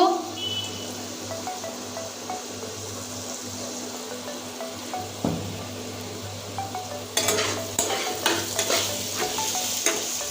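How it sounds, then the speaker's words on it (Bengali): Potatoes frying in oil with fish head in a pan, stirred after salt goes in; a steady sizzle runs throughout, growing louder and busier in the last few seconds with scraping stirs. "লবণ দিয়ে একটু নেড়ে নিয়েছি"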